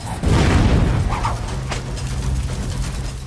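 A fire spell exploding in the game Lichdom: Battlemage, a loud booming blast at the start that fades into rumbling crackle and scattered impacts.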